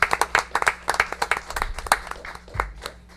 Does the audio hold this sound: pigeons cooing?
no